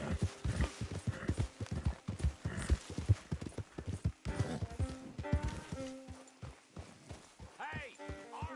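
A horse gallops in Red Dead Redemption 2 with a quick, rhythmic clip-clop of hooves, mixed with a voice and a brief whinny-like tone.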